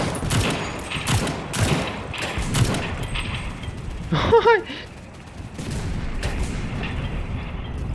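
Repeated booming shots of tank fire in the video game World War Heroes ring out amid chaotic battle noise, with a brief burst of mechanical clatter midway.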